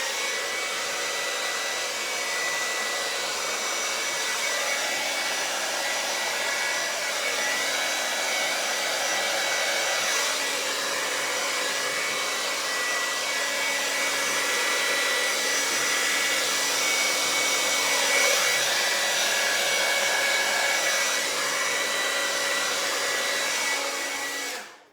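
A hair dryer blows steadily and close, pushing white fluid acrylic paint across blue and lime green colors in a Dutch pour, its airflow whoosh rising and dipping slightly as it moves, then cutting off at the end.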